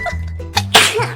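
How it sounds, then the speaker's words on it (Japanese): A woman sneezes once, a short sharp burst after a brief voiced intake, close and loud, with a faint voice around it. "くしゃみをしてしまいました。"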